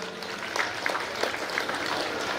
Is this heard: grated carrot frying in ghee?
no